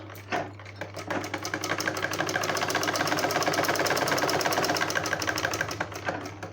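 A sewing machine stitches a blouse with a loud, close, rapid rhythmic clatter and steady motor hum that runs continuously for about six seconds.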